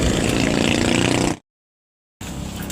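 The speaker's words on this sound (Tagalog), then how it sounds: "Papakarga tayo, papapultak natin itong motor." A motorcycle engine idles while being refuelled at a gas station, a loud steady close rumble that cuts out abruptly for under a second, then resumes.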